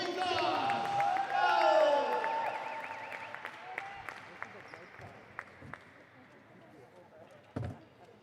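Spectators at a women's international sports match, Zimbabwe versus Botswana, break into applause with whistles and cheers that swell early, then thin out to scattered claps and a brief final burst.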